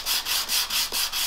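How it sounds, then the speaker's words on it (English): A wooden flute being sanded by hand with 120 grit sandpaper, rhythmic back-and-forth rasping strokes, about five close, loud passes in quick succession. "so I'm going to just sand"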